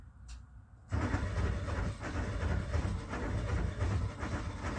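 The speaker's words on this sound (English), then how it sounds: "APU starting." A semi truck's auxiliary power unit with a check-engine fault starts up after a short pause, then settles into a loud, steady, rumbling drone that continues through to the end.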